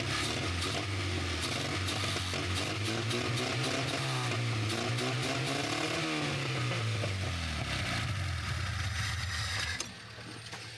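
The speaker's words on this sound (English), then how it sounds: "The engine roars like a beast, rumbling like thunder." An old, long-abandoned car engine rumbles loud and steady at close range with a deep, thundering roar and rising and falling revs, running alone without talk before cutting off abruptly near the end.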